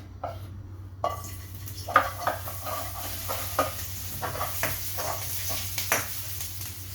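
Garlic, onion and chili sizzle in a hot pan for spicy chicken adobo, under a constant frying hiss with a run of irregular metallic clinks and scrapes from stirring in the pan.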